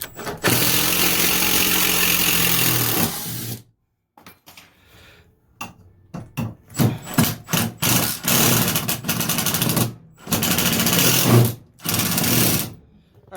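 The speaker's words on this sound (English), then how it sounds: "I might as well take the screws off and pull this off." Screws are driven out of a wall-mounted block for a laundry box install with a power drill: one long whirring run, then a series of short stop-start bursts, close by.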